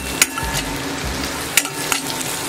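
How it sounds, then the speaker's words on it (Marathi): Onion and curry leaves frying in a pan for an eggplant and potato dish, a continuous soft sizzle broken by several sharp scraping clicks of a spoon stirring, close and fairly quiet, with no voices. "तर यामध्ये आता 4 ते 5 कढीपत्त्याची पानं घालून घेऊया आणि व्यवस्थित मिक्स करून घेऊया।"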